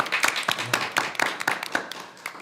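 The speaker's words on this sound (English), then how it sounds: "If we can give her a round of applause." A short burst of clapping from a small group at a board meeting, with uneven overlapping claps over a couple of seconds.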